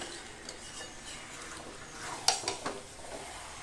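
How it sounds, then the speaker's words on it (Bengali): Pieces of mutton for a mutton and potato curry are tipped into a pressure cooker in a home kitchen, giving a few sharp metallic clinks and scrapes near the end over a low, steady background hiss. "মাংসটা প্রেশার কুকারে ঢালা হয়ে গেছে"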